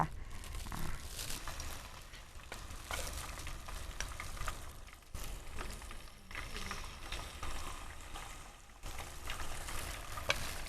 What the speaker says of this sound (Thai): เราทอดเราใช้ไฟกลางค่อนข้างไปทางแรงนิดนึงค่ะ